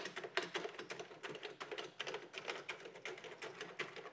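Keys on a Smith Corona DeVille 125 typewriter are pressed in a quick, irregular run of light clacks, close but quiet, with no voices.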